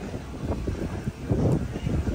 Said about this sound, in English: I don't know if you can hear in the video, but it's a bit windy out here.